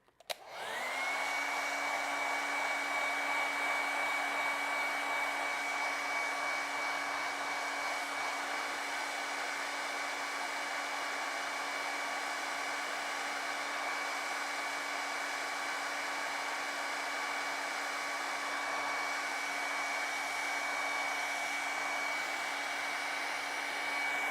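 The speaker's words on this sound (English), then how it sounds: "we're going to set it a little bit with a hairdryer" A hair dryer switches on and blows continuously at a steady pitch, a loud, even whirring hum with an airy rush, no voices.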